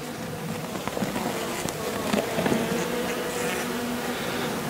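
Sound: honey bees buzzing in an opened beehive during inspection

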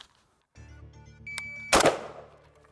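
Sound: AK rifle gunshot, first shot after disengaging the safety

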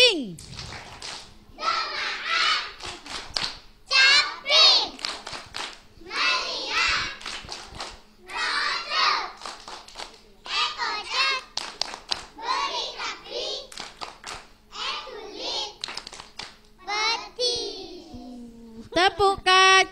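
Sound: children doing a clapping game

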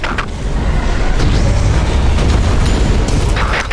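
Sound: explosion in the video game Earth Defense Force 4.1

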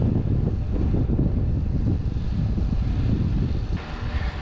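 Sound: strong wind

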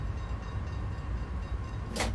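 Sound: GTW train stopping at station, Train Simulator 2016 video game

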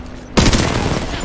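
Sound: gunfire in Apex Legends video game

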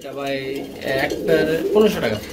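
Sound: pigeons

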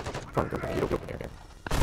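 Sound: gunshots in a video game

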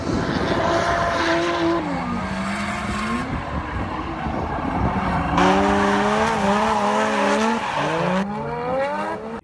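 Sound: drift car tires squealing at Ebisu Circuit

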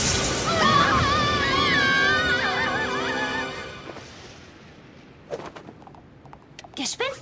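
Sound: horse neighing, the headless horse

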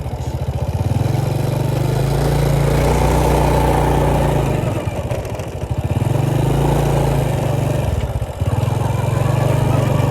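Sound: motorcycle engine while riding

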